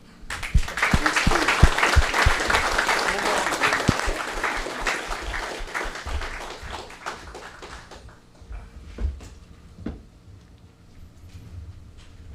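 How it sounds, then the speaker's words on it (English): Audience applause at a club breakfast after a question session, a full round of clapping that peaks early, thins gradually and trails off into scattered claps and room noise. "let's applaud"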